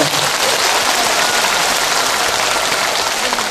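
Sustained audience applause fills a hall during a live music show after a call to cheer for a senior Buddhist monk, dense, loud and steady clapping from many hands throughout.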